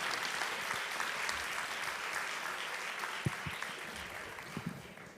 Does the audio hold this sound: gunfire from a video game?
no